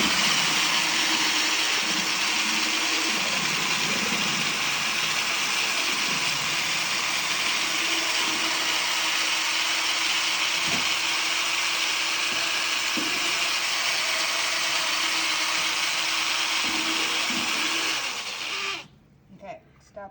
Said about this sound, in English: put the drill in the liquid first, kind of stir it around, kind of scrape the bottom a little bit, and then drill for maybe 30 seconds to a minute